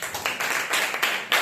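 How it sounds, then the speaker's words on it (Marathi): Applause from schoolchildren at a fifth-grade farewell gathering in a village school, a steady patter of hand claps with a few louder swells, close by and with no talk over it. "टाळ्या"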